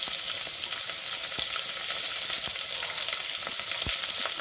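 Lentils and curry leaves fry in a hot pan, a steady dense sizzle with a few sharp pops and crackles throughout, close and fairly loud with no voices.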